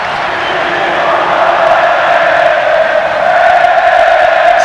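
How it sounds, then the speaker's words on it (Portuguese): Fluminense supporters roar through Maracanã stadium during a 1995 Brazilian championship semifinal against Santos, a steady, dense crowd noise with sustained chanting tones that holds at an even level throughout. "a torcida do Fluminense faz barulho aqui no Maracanã"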